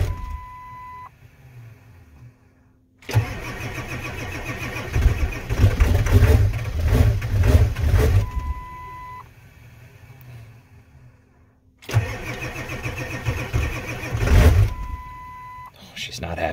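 Diesel engine with glow plugs still on cranks over in two long, loud bursts separated by quieter gaps, with brief tones from the dash and a voice talking over the cranking.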